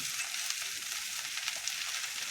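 Okra frying on a flat iron tawa with lemon juice added, a dense continuous hiss and crackle with light stirring throughout.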